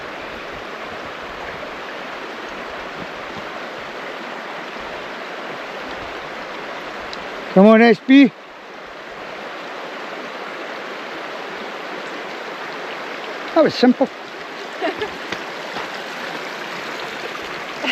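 A river rushes steadily throughout a countryside walk, a broad, close, continuous flow of water. A voice briefly speaks over it twice, with a few faint knocks near the end.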